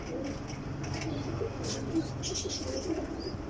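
A golden salara pigeon coos softly in short, low repeated calls amid quiet background noise, with faint sounds of other birds nearby.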